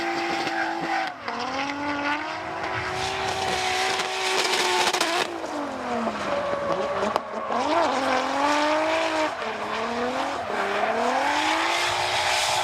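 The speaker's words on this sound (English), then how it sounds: "Let's just sit and listen to this RB crank" A Nissan RB-engined drift car circles a track at Toronto Motorsports Park, its engine revving in long rising and falling wails with squealing tires, loud and sustained with no talk over it.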